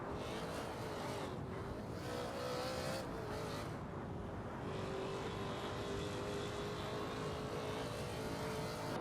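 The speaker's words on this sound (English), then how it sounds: "Neo Texum of Team Navgum Kings driving a Porsche is keeping a good pace and is ahead of K0 Mixus in 29th place." Race cars, including a Porsche, run in a supercar racing video game, with a continuous loud engine roar and shifting pitch as the cars hold pace in a crowded field.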